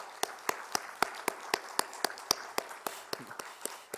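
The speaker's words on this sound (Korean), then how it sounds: "우리 한번 하나님께 감사의 박수 드리겠습니다." A church congregation claps together in a steady rhythm, about four claps per second, during a thanksgiving service. The crisp claps are fairly close and carry on for several seconds with no speech over them.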